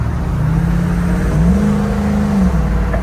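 A 1965 Ford F100 pickup being driven, its engine droning steadily from inside the cab with a brief rise in revs around the middle, road rumble underneath and no voices.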